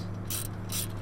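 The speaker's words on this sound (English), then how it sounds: "we're going to do it on the bottom as well, which is also a 14 millimeter socket" Two quick ratcheting strokes of a socket wrench with a 14 mm socket on a brake caliper nut of a Hyundai Veloster N, close clicking bursts over a steady low hum.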